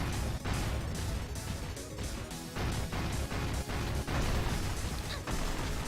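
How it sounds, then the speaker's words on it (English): Cannon blasts in the video game Shantae: Risky's Revenge, a dense run of loud booming bursts and crashes repeating every half second or so over busy game music. "except she shoots the cannon."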